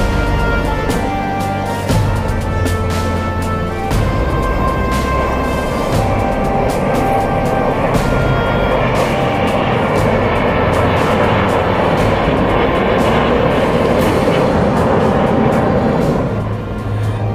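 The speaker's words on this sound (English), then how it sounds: "This is the next formation, comprising one C-130J Super Hercules and four Rafale aircrafts." A C-130J Super Hercules flies past with four Rafale jets at a Republic Day 2023 full dress rehearsal. The aircraft engines make a sustained, loud, broad roar that carries throughout.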